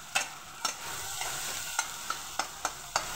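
Egg bhujia, scrambled egg, stirred in a hot frying pan: a low sizzle runs underneath while a spatula taps and scrapes the pan in a loose, fairly regular rhythm of about eight sharp clicks, close and without talk.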